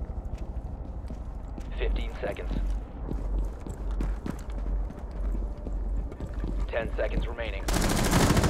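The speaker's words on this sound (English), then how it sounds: "Shooting through the wall." In the Rainbow Six Siege video game, repeated gunfire punches through a wall in quick, uneven bursts, with a voice faintly heard over the shots and a harsh burst of noise at the end.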